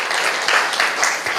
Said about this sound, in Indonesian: Berikan dulu tepuk tangan untuk Tuhan Yesus.